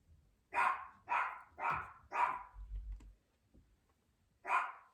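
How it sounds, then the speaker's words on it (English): Several household dogs barking indoors, four sharp barks in quick succession, then a pause with a low rumble, and one more bark, moderately near. "Oh, there goes my dogs. They hear my son."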